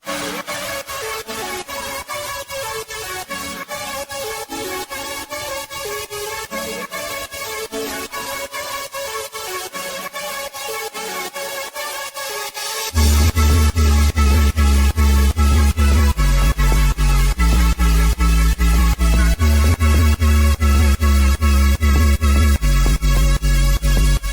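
Build-up section of an electronic remake: a steady rhythmic synth pattern with thin low end, then at the midpoint heavy sustained bass and a fuller lead drop in, loud and dense, no voices.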